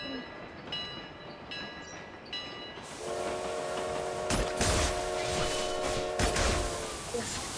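A passing train in the PUBG video game, a steady low rumble with a multi-tone horn blast sounding over it in the second half, after softer game sounds with short tonal beeps.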